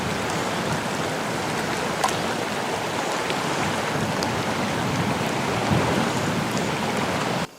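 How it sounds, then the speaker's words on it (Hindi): Soft, steady patter of light rain at a windy campsite, with occasional distinct drips, continuous and fairly close, over a wash of background water noise. "बारिश आ गई देखो, सुन रहे हो? टपर टपर गिर रही है ऊपर"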